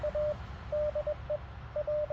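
Morse code sidetone from a QMX amateur radio during a portable activation: a steady mid-pitched beep keyed in short dots and longer dashes, clear and close over a low background rumble.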